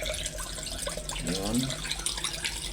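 Water drains out of an LG automatic washing machine showing a PE/OE error during its third rinse: a steady, close splashing gush that runs throughout, with a faint voice briefly underneath.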